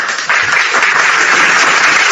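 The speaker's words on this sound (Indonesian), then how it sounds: "Tepuk tangan untuk teman kita, ya." Audience clapping for a friend at a talk on Jesus, a loud, dense, sustained round of applause that swells in after a brief start and stays even, close and full.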